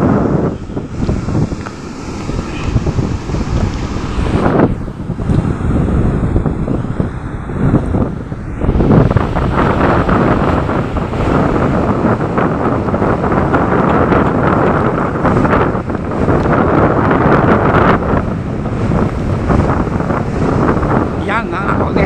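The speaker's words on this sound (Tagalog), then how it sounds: "Grabe, ang lakas ang hangin dito." Strong typhoon wind (Typhoon Carina) roars and buffets the microphone continuously, loud broadband rushing with gusts, near the shore with storm-damaged houses.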